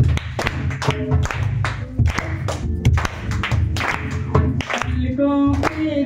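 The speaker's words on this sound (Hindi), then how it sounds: "सभी मिलके तालियों के साथ" A congregation claps along in a steady beat to a Hindi Christian worship song, the sharp claps sitting over the sung melody and accompanying music at close range.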